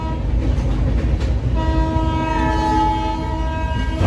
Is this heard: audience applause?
no